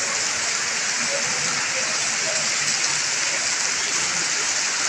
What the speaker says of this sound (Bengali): প্রচণ্ড বেগে বৃষ্টি চলছে